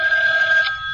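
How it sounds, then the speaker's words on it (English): A telephone bell rings in a steady, loud electronic trill lasting the full second, close by and alone with no talk over it, in a 1982 radio drama. "a ringing telephone makes me nervous"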